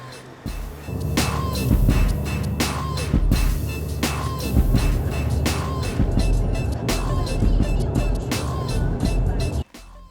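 Lancia rental car in Italy driving off, the engine a close, steady rumble with the whoosh of moving air and a few knocks and clicks, fading out at the very end.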